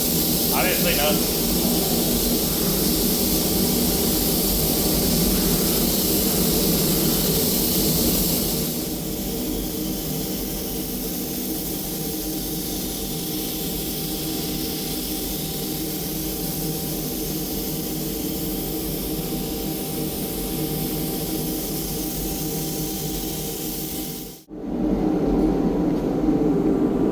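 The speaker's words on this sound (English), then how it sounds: "Spraying all over without putting a single run in it." A spray gun lays paint on a bagged Chevrolet Silverado truck, giving a loud, steady airy hiss that runs almost without a break. It eases slightly partway through, then cuts off sharply near the end before starting again.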